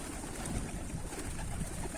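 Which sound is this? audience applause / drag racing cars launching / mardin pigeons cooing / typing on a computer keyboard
mardin pigeons cooing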